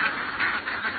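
Ducks kept for eggs on a rice-paddy farm give a quick run of about four nasal quacks, close and fairly loud, with no speech over them.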